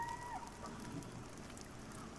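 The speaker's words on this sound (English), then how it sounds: "It's raining too." Rain falling in the video game Pantheon, a faint, soft, continuous patter with a brief tonal chirp near the start.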